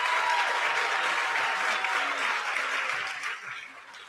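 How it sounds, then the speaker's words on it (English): An audience applauds graduates of CNC machining and quality control programs at a manufacturing training graduation ceremony, a dense, steady round of clapping that fades slightly toward the end. "Let's once again give a round of applause to all of our graduates in CNC machining and quality control."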